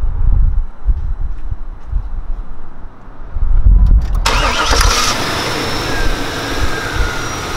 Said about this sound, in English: I'm gonna start it up so you can hear it.